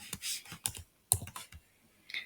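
Keys tapped on a computer keyboard while entering a test title in an online quiz editor, a few quick irregular clicks up close in a quiet room.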